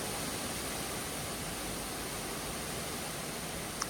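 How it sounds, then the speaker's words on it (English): Hurricane Milton wind at night in Florida, a steady broad rushing roar with no gusting peaks, continuous and fairly faint throughout. "Hear the wind."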